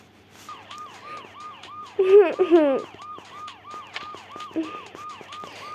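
An ambulance siren in the video game Toca Boca wails in a fast, repeating rising-and-falling pattern, with a brief burst of a voice cutting in partway through.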